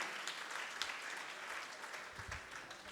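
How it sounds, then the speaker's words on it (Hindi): Audience applause in a hall at a Jain religious gathering, a steady wash of many hands clapping at moderate level throughout, with no talk over it. "जोरदार तालियां इस हॉल के लिए बजा दें।"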